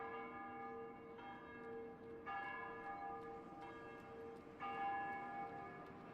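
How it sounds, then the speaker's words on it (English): Church bells toll slowly for plague victims, with several sustained, ringing strikes overlapping into a resonant wash, at a moderate distance and fairly quiet, with no voices. "the bells toll on for those taken by the plague"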